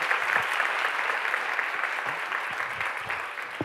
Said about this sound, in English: One more round of applause for the translators.